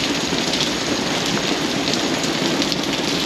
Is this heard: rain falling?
yes